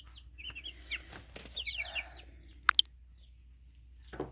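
A chicken gives a few soft clucks and calls at close range outdoors in a quiet rural setting, followed by two sharp clicks and faint rustling.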